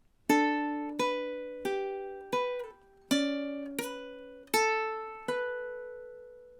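Ukulele plucking measure 27 of a song: about ten clear, bright notes and chords in a steady rhythm, each ringing and decaying, close and alone without talk.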